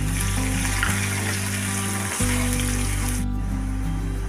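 Chopped onions dropped into a hot pan with paste and chilies, giving a steady, close, loud sizzle and frying hiss that continues without pause.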